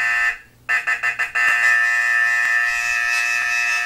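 A loud electronic buzzer sounds, stutters in several quick pulses, then holds a steady harsh tone close by without any voices.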